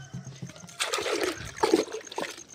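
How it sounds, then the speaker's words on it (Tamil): Water is poured over clothes and soap powder for soaking, giving close splashing and gurgling bursts with a short trickle that rises and falls unevenly. "தண்ணியை வந்து ஊற்றிடணும்."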